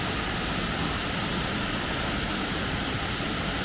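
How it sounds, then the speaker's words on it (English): A waterfall in Durmitor National Park, Montenegro, pours out a steady, dense rushing roar that holds unchanged and fills the whole moment, with no voices over it. "There's another waterfall over there."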